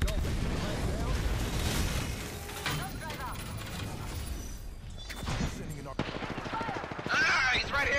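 Rapid bursts of gunfire and a sharp sniper shot crack through an Apex Legends firefight, players talking excitedly over the repeated shots and impacts.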